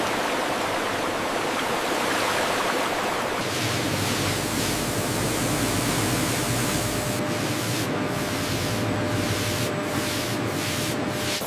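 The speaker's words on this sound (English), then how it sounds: "High-pressure water jets meticulously clean each rind, ensuring pristine quality." High-pressure water jets spray watermelons on a factory cleaning line, making a loud, unbroken hiss and rush throughout, with brief bursts of heavier spray near the end.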